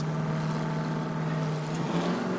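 Race cars in the SST Race of Champions at Foro Sol launch off the starting line, a loud sustained engine drone rising in pitch near the end.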